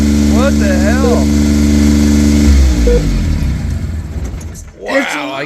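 Small engine on a Tonka minibike running loudly and revving close by, a steady droning idle that swells and roughens, with a person's excited talking and exclamations over it.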